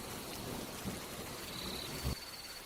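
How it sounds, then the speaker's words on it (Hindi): Heavy rain pours steadily onto a tin roof, a dense continuous hiss with a couple of soft low thuds, fairly faint and with no voices. "बरसात अब बूंदों से तेज धार में बदल चुकी है।"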